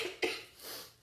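A single short cough, close and fairly quiet, followed by a soft breathy tail.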